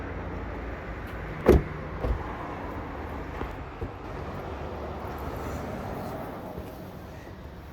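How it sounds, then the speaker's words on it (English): The panoramic sunroof of a 2026 Toyota RAV4 VX opens with a low, steady motor hum inside the cabin, marked by a sharp click near the start and a few faint knocks. "the RAV4 now comes with the beautiful panoramic sunroof, which actually opens"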